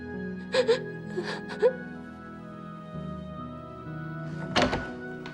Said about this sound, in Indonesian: Kok ada suara tangisan sih?